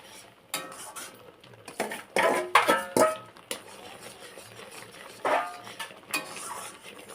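Semolina fried in ghee stirred in a pan, with a spoon clattering and scraping against metal in uneven, close knocks and clinks, moderately loud, alone without talk.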